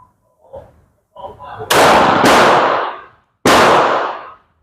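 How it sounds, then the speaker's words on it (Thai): Pistol shots from a Glock 17 firing Thaiarms 9mm 115gr ammunition at a test range: loud, sharp close-range reports, two in quick succession followed by a third after a short pause, with brief speech before them. "นัดที่สี่ยิงจากกล็อกสิบเจ็ดนะครับ"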